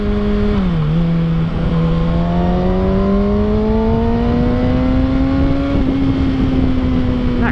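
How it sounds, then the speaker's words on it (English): A loud, steady Kawasaki ZX6R exhaust drone with a rising pitch as the motorcycle accelerates, continuous and close throughout. "how about that exhaust though"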